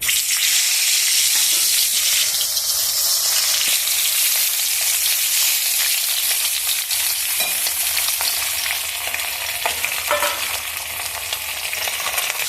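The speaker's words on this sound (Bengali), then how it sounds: "তারপরে মাছটা ভেজে নিচ্ছি" Pieces of hilsa fish fry in hot oil in a pan, giving a loud, continuous sizzle and crackle with occasional scraping stirs and small pops, no voices.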